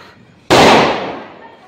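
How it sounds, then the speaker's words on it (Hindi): A single firecracker bursts during Diwali with one sharp, loud bang that decays over about a second, heard close by after faint background chatter. "ये देखो हाथ हाथ से फोड़ रहे हैं ये पटाखे, हाथ से फेंक रहे हैं।"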